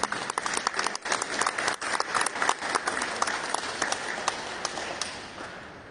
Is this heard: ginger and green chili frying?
no